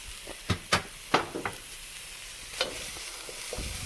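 Fresh garlic and ginger paste hits a hot pan for mu shu chicken, bursting into loud sharp crackles and several utensil taps before settling into a steady close sizzle.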